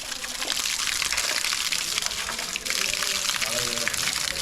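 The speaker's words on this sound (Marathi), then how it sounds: "नैसर्गिक धबधबा शुद्ध पाण्याचा स्रोत या ठिकाणी पाहू शकता" Water rushes and splashes continuously from a nearby natural waterfall at Sudhagad Fort in the Sahyadri hills, a steady loud gush with a voice briefly heard over it.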